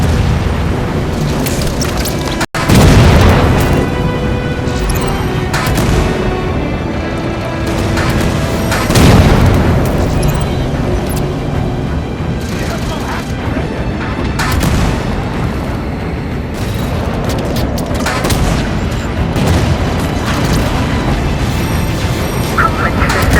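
Booming explosions erupt as coolant pipes are blown apart in the Halo 5 video game, a sharp blast early on followed by rolling rumbles and gunfire under continuous loud battle noise, with voices talking over the action.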